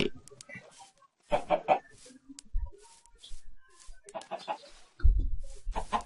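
Chicken clucking in the Minecraft video game, short game-style clucks heard in a few bursts amid thumps and other game sounds, with no speech over them.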